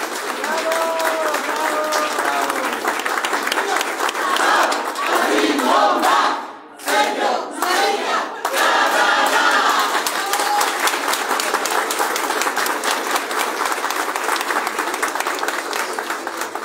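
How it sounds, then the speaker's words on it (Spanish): A large crowd at a ceremony at the Tecnológico de Estudios Superiores de Ecatepec breaks into loud, sustained applause with shouting and cheering, dipping briefly midway before swelling again, voices mixed in throughout. "Un aplauso para todas y todos."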